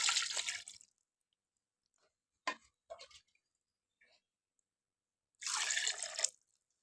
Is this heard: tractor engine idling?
no